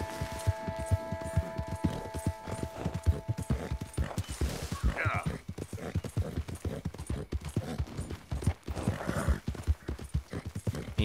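Hooves of a horse in Red Dead Redemption 2 clip-clop in a quick, steady rhythm, close and prominent, with a brief whinny partway through and no talking.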